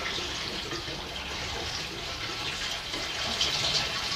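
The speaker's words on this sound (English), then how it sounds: "And then whack in some new petrol, new unleaded," New unleaded petrol pours into the fuel tank of a Chang Jiang 750 sidecar motorcycle. The liquid gushes in a steady, continuous stream at close range for a few seconds, with no talk.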